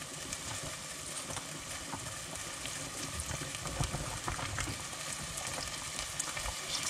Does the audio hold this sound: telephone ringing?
no